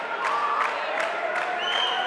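Crowd applause and cheering fill a steady wash from start to finish at an indoor cricket match, the Masters World Series final between Australia and New Zealand, with a whistle-like tone rising near the end.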